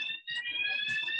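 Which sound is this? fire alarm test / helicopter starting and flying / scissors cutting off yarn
fire alarm test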